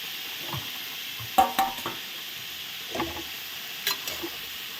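Mustard flowers being stirred and fried in a pan give a soft, steady sizzle punctuated by a few sharp spatula scrapes and clinks against the metal, with no talking.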